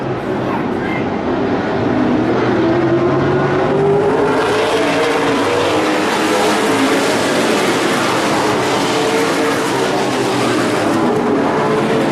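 Super late model race cars run a 50-lap main event at Evergreen Speedway, their engines droning loudly and continuously, rising as the field comes past, with crowd and announcer noise blended underneath.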